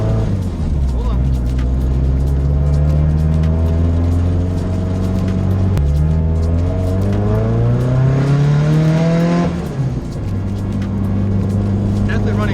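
A drift car engine running rich revs hard and loud from inside the car, pitch climbing through sweeping rises, dropping briefly, then climbing again, with people talking over it.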